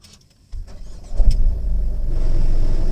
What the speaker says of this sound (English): So first let's turn on the engine to judge the NVH.